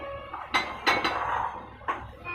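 A metal teaspoon clinks against a dish as cloves are measured out, giving a few sharp, close clinks with a short rattle between them.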